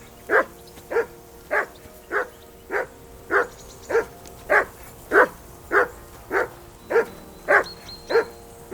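A dog in Kingdom Come: Deliverance II barks repeatedly at a steady, even pace, around fourteen sharp, fairly loud barks in a row with no talk over them.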